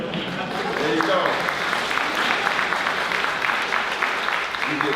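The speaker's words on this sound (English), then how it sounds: "You get clapped for being a Republican in here." An audience claps steadily in a large hall, with a dense patter of hands lasting the whole stretch, fairly loud, with murmuring voices mixed underneath.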